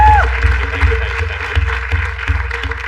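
A crowd bursts into loud applause for a performer named Mithilesh at a mimicry show, a dense clapping wash with rhythmic beats and a voice briefly over it.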